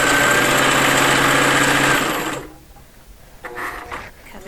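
A sewing machine stitches a dimensional fabric piece, running in a steady fast whir for about two seconds, then stopping for back stitching, followed by quieter handling sounds and brief mechanical clicks.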